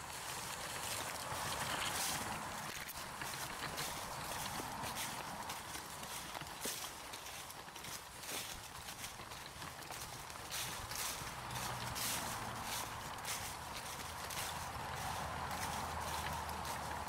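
Hooves clip-clop at a steady walking rhythm on a woodland path as a donkey pulls a cart with wooden shafts, close and continuous throughout, with faint rolling and creaking under the hoofbeats.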